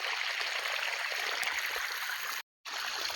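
A steady, soft rush of irrigation water flowing from a pipe in a pomegranate orchard hisses continuously at low volume, broken by one brief silence near the end.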